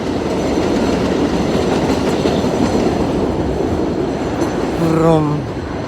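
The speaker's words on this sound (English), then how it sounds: "Go train, go. Look at it go." A train rolls past close by, a steady loud rumble of wheels on rail with clattering throughout and a brief squealing tone near the end as the cars go by.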